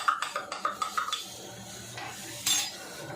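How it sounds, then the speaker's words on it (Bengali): Amul milk powder being stirred into hot water, a spoon clinking rhythmically against the cup in quick repeated taps, then a louder scrape near the end; close and fairly quiet, no voices. "আমল দুধটা গরম জল দিয়ে ভালো করে গুলে নেওয়া হচ্ছে।"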